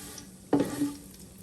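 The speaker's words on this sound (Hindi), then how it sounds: "देखिए ऑयल भी गर्म है और इसकी ऐसे आवाज़ भी आ रही है।" Hot oil sizzles softly in a pan, with a quick scrape and clatter of stirring partway through.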